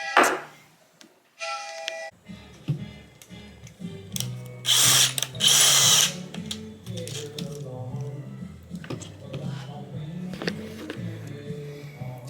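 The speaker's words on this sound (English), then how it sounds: "Got to drill a hole in this." A drill whirs in uneven bursts against a glass pesto jar, grinding and stopping repeatedly, with a sharper high-pitched burst partway through.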